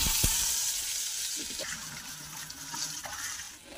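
Taro and potato hit hot oil flavoured with nigella seeds and a dried chili, giving a continuous hissing sizzle with a few small knocks, close and fairly loud.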